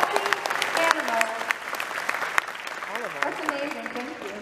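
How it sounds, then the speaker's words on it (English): Audience applause fills a convention panel hall at Planet Comicon 2021 in Kansas City, steady and dense for the whole stretch, with voices and cheers mixed in under the clapping. "let's give them a round of applause"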